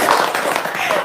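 A short burst of audience clapping and applause, a few quick hand claps mixed with a faint voice, brief and moderately loud.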